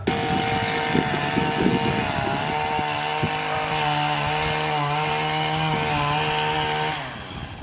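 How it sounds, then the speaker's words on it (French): A chainsaw pruning a tree buzzes loudly and steadily up close, its pitch shifting as it cuts, then trails off at the end. "Après la tondeuse, l'élagage."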